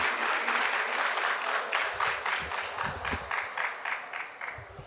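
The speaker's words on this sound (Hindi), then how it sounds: "भरपूर तालियों में तशरीफ लाते हैं जनाब मुश्ताक अहमद।" Audience applause at a mushaira poetry recital in Lahore, a dense sustained wash of clapping that swells and fades in waves while a few low voices murmur underneath.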